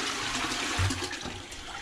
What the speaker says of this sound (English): Let me flush it.